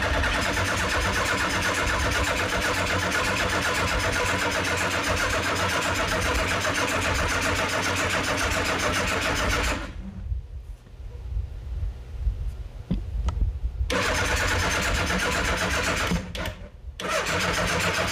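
A 1979 Suzuki GS850 motorcycle engine cranks on a weak battery, with a steady, sustained starter churn that stops abruptly, pauses, then resumes in short bursts near the mic, with no talking.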